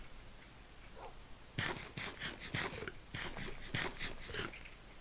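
A Minecraft dog makes a series of quick panting and yipping bursts, several short sharp sounds in an uneven rhythm over quiet background noise.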